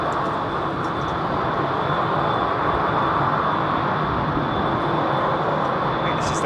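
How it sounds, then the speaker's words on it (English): A Delta Airbus A330neo jet departs London Heathrow, producing a loud, steady, broadband engine roar that holds throughout. "Delta 330 Neo."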